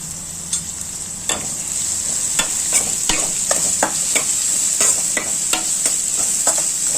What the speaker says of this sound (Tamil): அதையும் எண்ணெயில் போட்டுடலாம் நல்லா வதங்கட்டும்